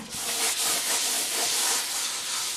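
A can of aerosol varnish sprays in one continuous, close hiss that holds steady for a couple of seconds, broadband and airy, with no talking.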